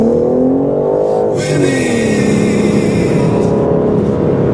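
A BMW accelerating hard on a track, its engine note loud and close, rising steadily in pitch and holding a strong continuous roar throughout.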